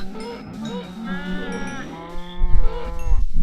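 Cattle lowing in a video game, several drawn-out moos with harmonic, game-style tones, fairly loud and close, the last calls rising over a louder low rumble.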